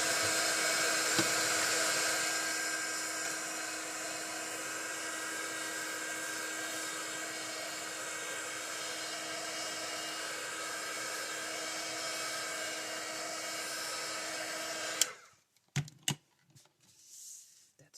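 A handheld dryer blows steadily on a die-cut daisy burst craft piece, a constant loud whooshing hum lasting about fifteen seconds before it cuts off, followed by a few light clicks and taps.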